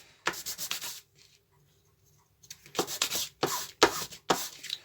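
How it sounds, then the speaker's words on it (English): Sandpaper taped to a workbench is rubbed by hand, close by, in several short back-and-forth bursts separated by a brief pause. "stick the sandpaper onto the bench with some tape, and then just do it by hand that way"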